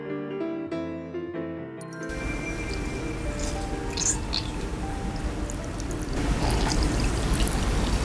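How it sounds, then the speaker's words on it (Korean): Soaked dried shiitake mushrooms are squeezed by hand, giving soft wet squishes and dribbles of water close up, after a brief musical passage. "불린 표고는 손으로 물기를 짜줄게요"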